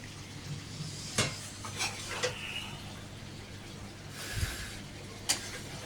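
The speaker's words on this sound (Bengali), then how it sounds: "একদম ভালো করে মশলাটাকে গুছিয়ে ভালো করে কষিয়ে" A spatula stirs and fries masala in a pan, making soft, scattered clinks and scrapes against the metal over a faint, low sizzle.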